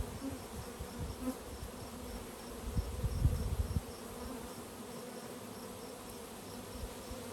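Honeybee swarm buzzing outdoors, a dense steady hum of many bees with a louder, closer burst of buzzing partway through, no talking.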